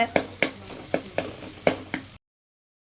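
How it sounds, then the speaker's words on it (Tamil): Chopped onions sauté in a pan for an Indian-style egg fry, a steady sizzle punctuated by regular spatula strokes about twice a second, close and moderately loud, before everything cuts to silence. "இப்போ வந்துட்டு வெங்காயம் வதங்கிருச்சு பாருங்கள்"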